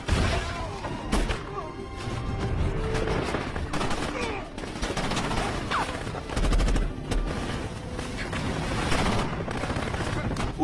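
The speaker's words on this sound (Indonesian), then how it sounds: "tiba-tiba datang pasukan tentara anak buah Isaac sehingga terjadi aksi tembak-tembakan." Rapid bursts of gunfire in a film shootout between soldiers and a lone sniper, dense crackling volleys with thumps and crashes running almost continuously at moderate loudness, without clear speech.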